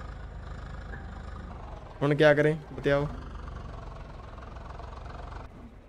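A tractor engine in Farming Simulator 22 runs at a steady low rumble throughout, while someone speaks briefly over it in the middle.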